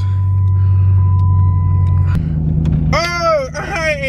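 A Chrysler 300C Hemi with a blown motor idles close by with a deep, steady rumble, which shifts pitch partway through before a voice cuts in over the running engine.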